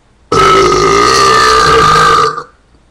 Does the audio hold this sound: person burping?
yes